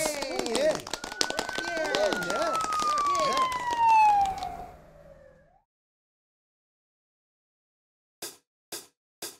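A cartoon police car siren wails in a children's song about colourful police cars, a long gliding tone that falls in pitch over a musical backing, then cuts out and leaves silence before three short soft hits close the clip.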